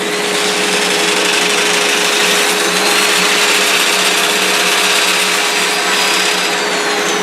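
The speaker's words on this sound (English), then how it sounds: "Slow the speed of the lathe down." A wood lathe spins a turned bowl at reduced speed during sanding, giving off a steady, loud, unbroken whir with a constant tonal hum and no pauses.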